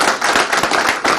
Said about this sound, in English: Let's give this man some applause